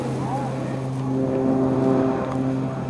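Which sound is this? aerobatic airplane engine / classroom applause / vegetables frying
aerobatic airplane engine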